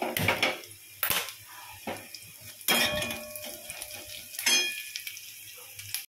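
Onions frying in a pan while being stirred, for a Bengali ridge gourd and potato dish: sharp spatula scrapes and clinks against the pan at irregular intervals over a soft, steady sizzle, close and fairly quiet.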